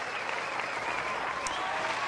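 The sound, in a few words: applause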